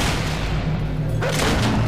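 Gunfire in the video game Fable II as the player shoots at a bomb-type enemy, a dense booming blast that shifts midway into a sharper burst, loud and continuous with no talk.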